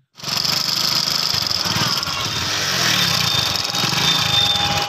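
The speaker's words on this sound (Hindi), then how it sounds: "तो गाइज आपने इंजन का साउंड तो सुन ही लिया होगा" A Hero Passion Pro motorcycle engine idles steadily and loudly nearby, its rough mechanical drone continuing without a break.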